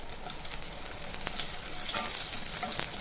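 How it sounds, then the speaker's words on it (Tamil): Crushed garlic fries with puffed rice in a pan for spicy kaara pori, a soft steady sizzle and crackle close up, with light scraping stirs and grains rustling against the metal, no voices present. "அதையும் இதில் சேர்த்து நல்லா இந்த மாதிரி ஃப்ரை பண்ணிவிடுங்க"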